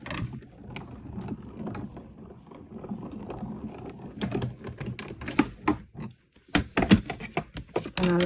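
A crank-operated die-cutting and embossing machine feeds a 3D embossing folder through its rollers with a ratcheting, clicking mechanical grind, growing louder and choppier toward the end, while a person speaks over it.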